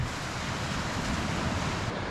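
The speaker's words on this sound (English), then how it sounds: "I'm sure you can hear the waves lapping in" At night, Lake Superior's waves wash continuously onto the shore below a bluff, a dense, steady broadband rush with wind buffeting the microphone.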